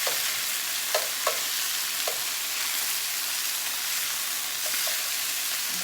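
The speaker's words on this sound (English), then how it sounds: "Just let it sear." Chicken searing in a hot Saladmaster pan, a steady, close sizzle hissing continuously, with a few faint taps and clicks of utensils and no voices.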